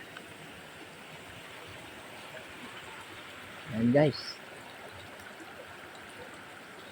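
Spring water flows steadily along a path leading to a waterfall, a constant soft rush that fills the background while a voice briefly speaks over it.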